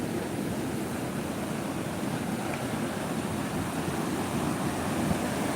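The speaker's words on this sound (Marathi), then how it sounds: "जुने तलाव होते त्या पाण्याचा प्रवाह पहा किती वेगाने आहे आणि याच पाण्याचा प्रवाह पूर्ण वेगाने खाली वाहत आहे" Fast-flowing flood water from an old lake makes a constant loud rushing roar with no breaks, like heavy surf, close and unbroken, with no voices.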